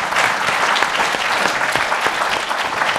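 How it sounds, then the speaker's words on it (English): Audience applause at a business school's distinguished speaker event: dense, steady clapping from a full room that holds for a few seconds without fading. "Yeah, you can clap"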